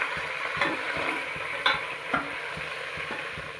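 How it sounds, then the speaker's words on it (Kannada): Mutton stirred with salt in a hot pan for sambar, giving a steady sizzle of frying under repeated scraping strokes of a spoon against the pan, with several sharper scrapes standing out. "ಮಟನ್ ಹಾಕಾದ್ಮೇಲೆ ರುಚಿಗೆ ತಕ್ಕಷ್ಟು ಉಪ್ಪು ಹಾಕ್ಕೊಂಡು ಚೆನ್ನಾಗಿ ಮಿಕ್ಸ್ ಮಾಡ್ಕೊಬೇಕು ಅದನ್ನು"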